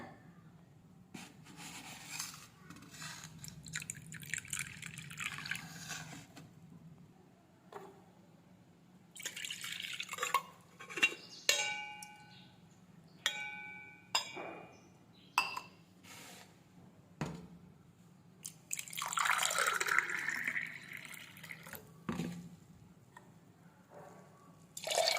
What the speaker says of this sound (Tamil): அதுக்கப்புறமா வந்து தண்ணி ஆட் பண்ணிக்கலாம்.